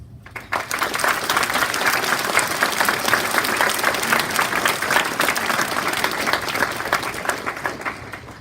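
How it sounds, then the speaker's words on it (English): Graduation ceremony audience applauding the graduates' families, a dense, steady wash of many hands clapping that holds at full strength for the whole stretch. "Please join me in applauding your biggest supporters"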